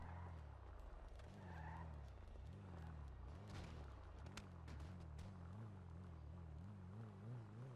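A car in the video game GTA 5 skids along, its engine droning with rising and falling pitch while tires squeal intermittently, steady and close throughout with no talking.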